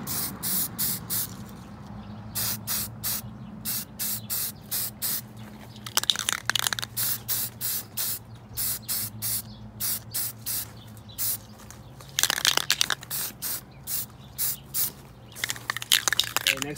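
Aerosol spray paint hisses in short and longer bursts, putting a touch-up coat of Satin Nutmeg onto a two-toned desert distressed paint job; the can is close and loud, with faint clicks and a low hum between bursts.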